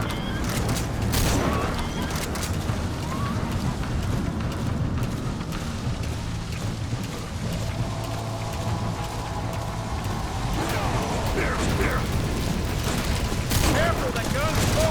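Gunfire and explosive bursts in Metal Gear Solid 5: The Phantom Pain, sustained dense shooting with booms over a continuous game soundscape, with voices speaking over the action.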